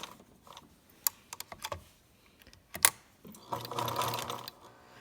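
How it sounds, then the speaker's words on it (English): A sewing machine runs a short back stitch at close range, with scattered mechanical clicks and taps building into a steady whirring burst toward the end. "So we're going to do a little back stitch right there"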